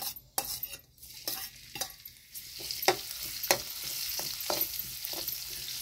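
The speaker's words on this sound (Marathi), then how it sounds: "तर हे बघा मस्त असं तळून झालंय लसूण" Crushed garlic frying in hot oil with mustard seeds and cumin, a steady close sizzle broken by repeated scrapes and taps of a spoon stirring in the pan, with no talk.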